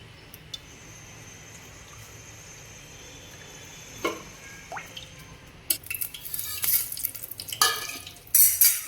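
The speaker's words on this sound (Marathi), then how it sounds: "3 चमचे तेल टाकते।" Three spoons of oil are poured into a pan for Latur-style nilanga rice: quiet at first, then light clinks of the spoon on the pan and brief liquid splashes that grow busier toward the end.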